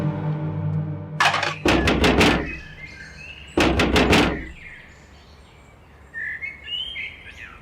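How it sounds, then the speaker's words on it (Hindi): Someone bangs hard on a door in a home, with two loud bursts of rapid pounding blows a couple of seconds apart, followed by quieter background sounds. "क्यों दरवाजा पीट रहे हो?"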